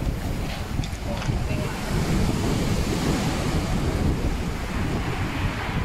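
Sea waves surge and crash continuously at Lui Yam Cave on Cape D'Aguilar, Hong Kong, a steady roaring wash mixed with wind buffeting the microphone.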